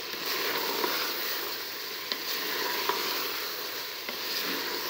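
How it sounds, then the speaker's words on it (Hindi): Kachnar buds roast in hot oil in a pan, giving a steady close sizzle with a few faint clicks of stirring and no talk. "मैं भुनाई कर रही हूँ किसनार की"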